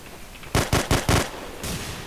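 Gunfire in the Hidden: Source multiplayer game: four quick, sharp shots in a rapid rhythm followed by a fifth, louder blast, close and punchy against quiet background.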